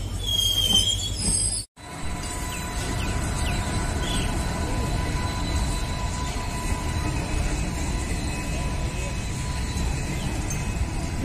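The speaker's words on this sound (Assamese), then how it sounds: "মই যিখন ট্ৰেইনত যাম সেইখন আহি পাই গ'ল ইতিমধ্যে," A passenger train pulls into a station, its wheels squealing steadily against the rails over a continuous loud rumble after a brief cut at the start.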